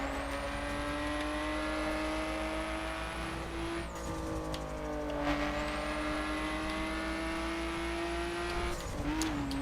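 Car driving through snow in the racing game The Crew near Yellowstone, a steady loud engine drone with gear shifts and pitch sweeps, occasional tire scrubbing and rushing noise, no talk.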